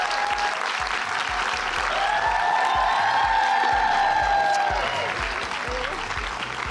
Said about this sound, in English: Can we give her a round of applause and some love as she comes?